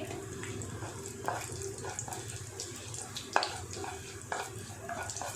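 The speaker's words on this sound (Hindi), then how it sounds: "जीरे को अच्छे से तड़कने देंगे" Cumin seeds crackle in hot oil in a kadhai, a soft steady sizzle broken by scattered sharp pops, close and fairly quiet.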